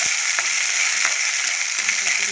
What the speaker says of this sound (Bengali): এবার তেল দিয়ে ভেজে নেব। বেশি করেই তেল দিলাম।